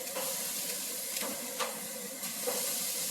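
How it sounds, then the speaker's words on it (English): Sausages sizzle steadily on a hot grill, a constant bright hiss with a few sharper pops and crackles standing out. "You'll hear the sizzle right away."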